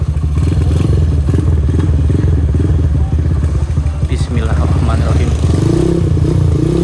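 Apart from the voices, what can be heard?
Honda Mega Pro CB100 motorcycle engine running and revving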